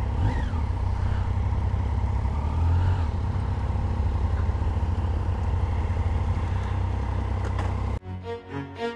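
A Triumph motorcycle rumbles past on a road near Chichester, its engine a steady, loud, close drone that holds for several seconds before cutting off abruptly.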